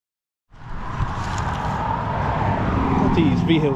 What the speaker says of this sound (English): Let these vehicles get by.